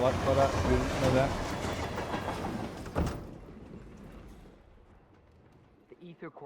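A train rolls along the rails in the Hitman video game, loud and broadband for about three seconds and then abruptly dropping to a faint low rumble, with a few short clicks near the end.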